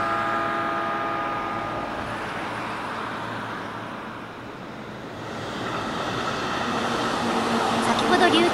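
An E657 series train pulling out of the Tsuchiura storage siding, a steady low rumble and rolling rail noise that swells slightly toward the end, with broad hiss and some tonal whine on top.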